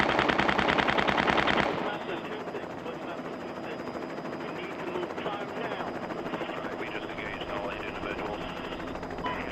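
Sustained machine gun fire from a film soundtrack played at a screening, loud and dense for the first couple of seconds, then falling back to a busier mix of scattered shots, rumble and indistinct voices.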